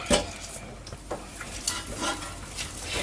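Onions are stirred in butter in a covered saucepan, with light clinks and scrapes of a utensil against the pan over a soft continuous sizzle, close and fairly quiet.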